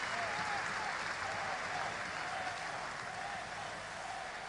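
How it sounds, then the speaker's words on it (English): A grandstand crowd at the 2022 Abu Dhabi Grand Prix cheers and applauds as a retiring Formula 1 champion completes his final lap, a steady, fairly faint roar with a few whistles. "They're cheering his name."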